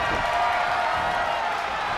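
A wrestling arena crowd in WWE 2K25 roars in a steady, dense wash of cheering that holds throughout at moderate loudness.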